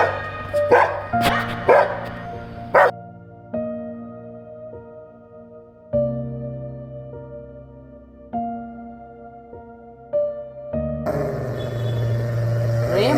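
Dogs bark in a few sharp bursts near the start and again at the end, with quieter stretches of tonal sound between them.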